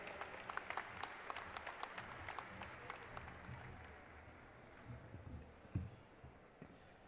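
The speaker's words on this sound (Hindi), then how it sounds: "आप सब ताली बजा करके उनका स्वागत करेंगे।" A crowd applauds to welcome a speaker at a swearing-in ceremony in Raipur, with dense, steady clapping from many hands that gradually thins and softens toward the end.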